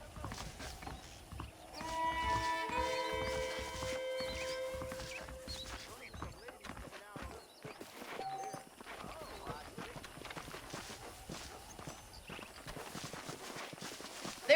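Horse hooves clip-clopping at a steady walking rhythm as a rider moves along in Red Dead Redemption, someone talking over it and a brief whinny near the start.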